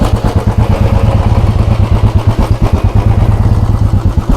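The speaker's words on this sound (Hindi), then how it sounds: "तो ये इंजन नॉइस," Royal Enfield Bullet 350 BS4, Classic or Standard, with its engine running steadily: a loud, close, rapid thumping beat with mechanical clatter, continuous and even throughout with no voices.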